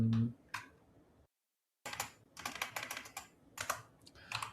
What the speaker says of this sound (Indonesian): Mau diketik aja bisa nggak sih?